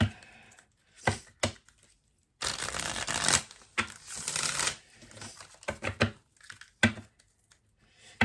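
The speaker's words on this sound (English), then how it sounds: "let's pull some cards and see what else we can" Tarot cards shuffled by hand in several bursts of riffling, flapping and tapping, separated by short pauses, fairly close and crisp with no talking.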